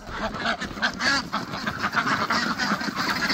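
Several ducks quack and honk close by at a homestead barn opening in a loud, overlapping chorus of repeated nasal calls, continuing without pause.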